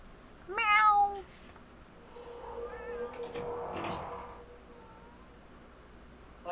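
A cat meows in the video game Dark Fall, a short rising-and-falling call near the start followed by a softer, breathier meow a few seconds later over a quiet background hum.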